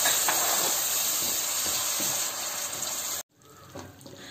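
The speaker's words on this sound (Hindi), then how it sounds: "डाल देते हैं प्यूरी और अच्छे से भून लेते हैं" Tomato puree frying in a pan, a loud, close, steady hiss of sizzling that cuts off abruptly near the end, followed by faint clatter, with no talk.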